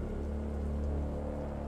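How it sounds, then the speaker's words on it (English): Rain falls steadily in a Star Wars: The Bad Batch scene, a soft continuous patter mixed with a low engine hum from a ship, with no voices. "Oh, the rain."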